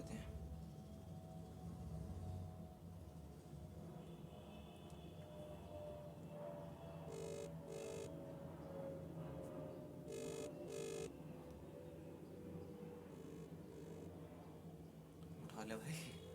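A phone call rings out while waiting for a friend to answer: faint, paired ring tones repeat at intervals over a low background hum, quiet and distant.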